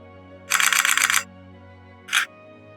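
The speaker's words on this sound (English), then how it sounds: "I want something like a camera shutter" A camera shutter snaps in a quick burst of rapid clicks, followed by a single shorter snap after a brief pause, crisp and close over a low steady hum.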